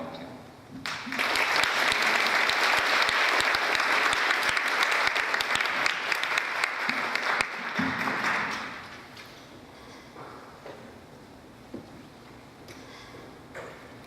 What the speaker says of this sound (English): put a big round of applause, the Southern way, for our new Consul General